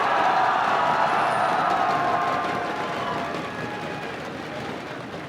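A large esports crowd at a Las Vegas event cheers for TSM, a dense roaring wall of shouts and whoops that starts loud and slowly fades over several seconds.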